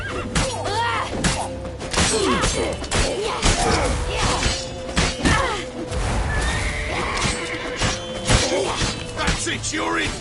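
Horse neighing amid chaotic combat in The Witcher 3, with whinnies rising over a dense, loud mix of thuds, crashes and shouting voices throughout.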